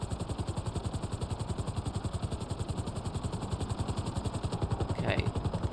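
Helicopter in GTA Online flying low over water, its rotor chopping in a steady, fast pulse throughout at close range, with a brief sharper clatter near the end.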